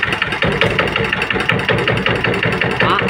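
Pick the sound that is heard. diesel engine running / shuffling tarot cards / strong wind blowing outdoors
diesel engine running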